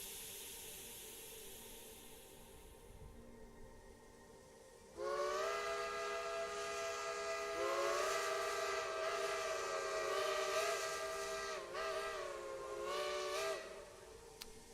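A steam train whistle sounds in the railway game Rolling Line, a loud multi-tone chime whistle that starts abruptly after quiet hiss and holds for about ten seconds with slight pitch wavers.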